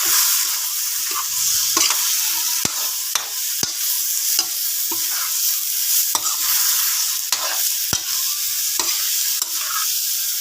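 Shrimp fry in a pan while a utensil stirs them, giving a constant close sizzle with sharp scraping clicks and taps at irregular intervals, no voices.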